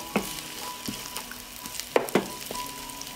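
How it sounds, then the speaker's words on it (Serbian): Chopped bacon fries with onion and garlic in pork lard, a steady low sizzle broken by scattered crisp pops and spatters, close and fairly quiet with no talking. "Dodajem seckanu slaninicu i nju ću propržiti."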